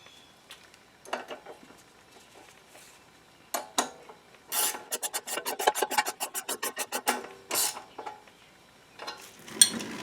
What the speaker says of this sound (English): let's cinch this bolt down using a new one-time crush washer